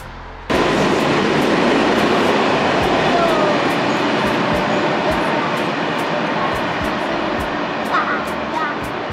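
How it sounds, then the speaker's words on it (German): A train passes under a bridge on the Black Forest railway line between Villingen and St. Georgen, arriving abruptly as a loud, close, continuous rumbling roar that holds steady to the end. "ach, das ist der Zug hier"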